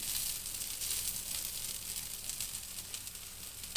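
A jonna dosa sizzles in a pan with a little oil, a steady, faint, hissing crackle that continues evenly throughout with no talking.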